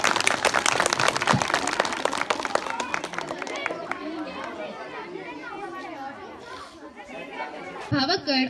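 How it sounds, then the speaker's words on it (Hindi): A school audience at a Republic Day program claps vigorously at first, then the applause fades into crowd chatter and murmuring voices, with a brief louder rustle near the end. "और सभी तालियां बजाएंगे एक बार जोरदार"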